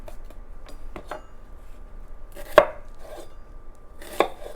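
A knife cutting a sweet onion on a cutting board, with a few scattered light taps followed by two sharper, louder chops close by in an otherwise quiet room.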